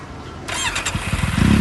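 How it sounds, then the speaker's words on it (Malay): A 2011 Kawasaki Z750 motorcycle fitted with an Akrapovic carbon exhaust cranks over with a hissing starter, then catches and settles into a loud, close, steady throbbing idle. "Okay, kita start motor ini."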